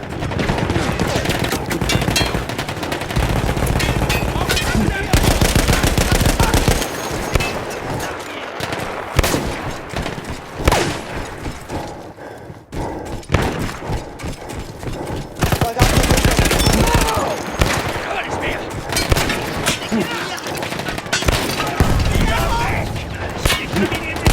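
Mounted machine gun firing in the Battlefield 1 video game, long dense bursts of rapid shots with booming explosions in a loud battle mix, a brief lull near the middle, and voices in game talking throughout.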